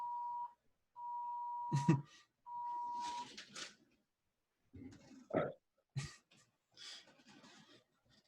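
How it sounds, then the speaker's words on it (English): A phone's Amber Alert notification sounds as a steady, penetrating electronic tone in three long pulses, fairly loud and close, followed by scattered quiet rustling and soft murmurs. "My phone just got a alert on it."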